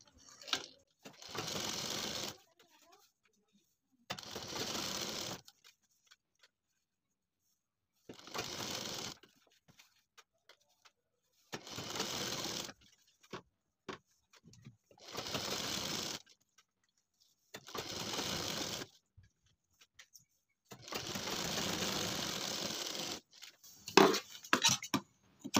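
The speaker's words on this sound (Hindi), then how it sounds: "इस पाइपिंग को इस तरीके से फोल्ड करना है, और ऊपर से लगाना है सिलाई" A sewing machine stitches over folded piping on a reusable cloth shopping bag, running in seven steady bursts of a few seconds each, with short pauses and small handling noises between runs.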